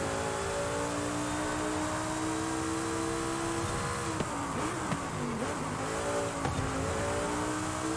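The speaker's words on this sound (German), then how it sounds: "V10-Motor im niedertourigen Bereich" A V10 car engine turns over at low rpm with a steady, smooth drone, then blips and revs briefly in a few short surges before settling back to idle.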